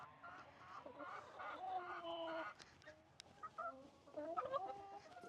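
A rooster clucks repeatedly at close range, with several short clucking calls and other chicken sounds, fairly quiet overall.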